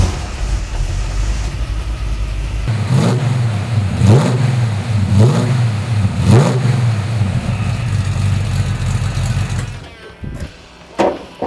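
A 1965 Shelby Mustang GT 350 V8 roars loudly from inside the car on a test drive, its engine note climbing and dropping through several rev swells before easing off near the end.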